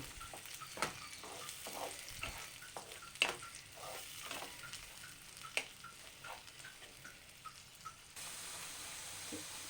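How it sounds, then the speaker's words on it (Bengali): Spinach paste fries and is stirred in a pan, giving a faint, steady sizzle broken by a quick series of light spatula taps and scrapes. "পেস্টটাকে এখন অল্প সময় নাড়ব।"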